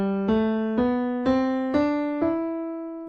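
Short musical phrase in the Phrygian mode: five struck notes step slowly upward, each ringing and fading before the next, close and clean with no voices.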